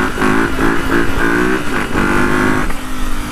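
A motorcycle engine revving hard up through the gears, with loud, repeated rising pulls broken by short dips at each shift, close to the listener with no talk.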